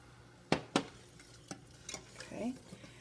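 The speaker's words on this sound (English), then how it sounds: "I'm going to add it just a little bit at a time so I can whisk it out and not get big clumps of flour." A thick-wired sauce whisk clinks sharply against a pot a few times, then scrapes and stirs more softly while flour is worked into a sauce for lasagna, with quiet kitchen hum underneath.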